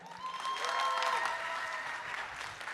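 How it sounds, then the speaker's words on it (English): A large convention crowd applauds on the main stage at Budapest Comic Con, steady dense clapping with some cheering and whistles, loud and sustained throughout. "With a huge round of applause"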